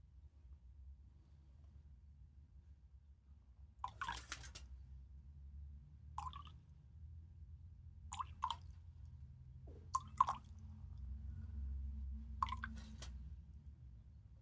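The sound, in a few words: excess water thrown and dripping onto garage floor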